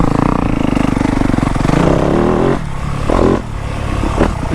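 A dirt bike engine revs hard and loud up close on a muddy trail, its throttle rising and easing several times with clattering and scraping of the bike over rough ground.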